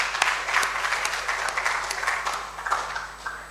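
Students at an inter-school debate on ECOWAS regional integration applaud, a steady, dense wash of many hands clapping across a hall, continuous and fairly even throughout.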